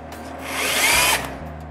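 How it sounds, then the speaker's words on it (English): A power drill with a Vix self-centering bit bores a pilot hole into an interior door hinge screw hole, a brief close whirring whine that rises, holds for about half a second, then drops away. "I must drill a pilot hole in the center of each hinges hole with a Vicks bit"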